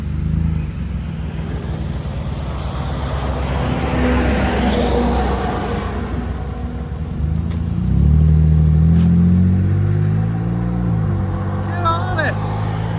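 A custom 2012 Toyota Sienna minivan with a muffler delete idles nearby, deep and throaty with a rumbling exhaust, swelling briefly as the throttle is blipped, while people talk over it.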